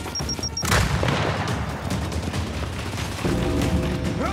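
In Gears 5 a grenade blast goes off with a sudden heavy boom, followed by steady sustained gunfire crackling underneath and a later surge of mixed combat noise and tones, with no speech.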